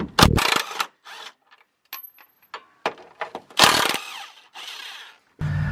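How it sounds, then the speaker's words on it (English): A power tool removes trailing arm bolts under a BMW drift car, giving loud, close, short rattling bursts mixed with metallic clinks and tool handling, with quiet gaps between them. "we're going to take off the trailing arm bolts as well."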